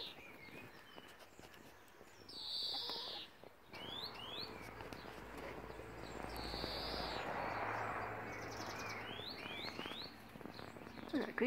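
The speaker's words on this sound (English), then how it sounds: "Green finch." A greenfinch sings outdoors in several short bursts of bright chirps and wheezy notes, heard at moderate distance over steady background noise.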